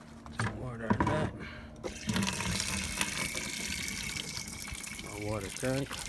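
Water runs from a tap into a bucket for washing a car, a steady rushing flow heard close up, with someone speaking briefly at the start and end.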